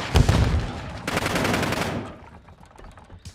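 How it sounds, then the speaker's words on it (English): Stun grenade going off in a Call of Duty match, a sharp close bang followed by a crackling burst and a trailing rattle that dies away within a couple of seconds. "Stun grenade out!"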